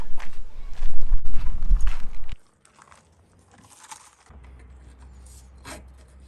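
Metal scraping and knocking as a sharpened length of threaded bar chips debris out of a 1978 Jaguar XJ6 engine block, loud and busy for about two seconds, then dropping to a faint low hum with only scattered small sounds.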